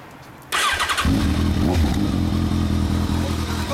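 A Honda CBR1000RR motorcycle with an aftermarket Akrapovič muffler is started: a brief starter whir, then the engine catches and settles into a loud, close, throbbing idle with a deep exhaust pulse.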